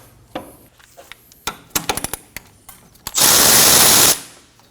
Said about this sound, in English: using a 17mm socket, we're gonna go ahead and remove that nut.